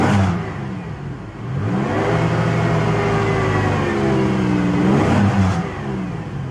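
A 1998 Pontiac Grand Prix GT with its 3.8 V6 revs up in park, the exhaust note climbing and falling through repeated loud blips and holding near the rev limiter, with no voices over it.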